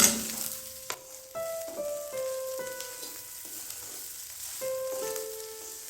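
Phodnichi poli, crumbled flatbread fried in a tempering, sizzles steadily in the pan as coriander is stirred through, with repeated scraping strokes and clinks of the spatula against the pan, close and without voices.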